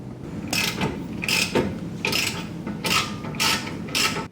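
A ratchet wrench tightening the camber bolt nut on a Toyota MR2 Spyder's suspension, clicking in about six regular, close bursts with brief pauses between strokes.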